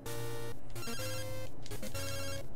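A phone rings in the Pokémon Silver game, a chiptune ringtone repeating its bright beeping pattern in short bursts with brief gaps between them, loud and alone.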